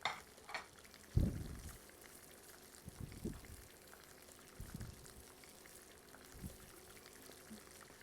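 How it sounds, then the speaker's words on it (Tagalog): Onions hit hot oil and start to sauté in a quiet pan, with a soft crackle under scattered stirring knocks and scrapes. The tone stays low and fairly faint. "Simulan na natin yung pagigisa. Lagay muna natin yung ating sibuyas."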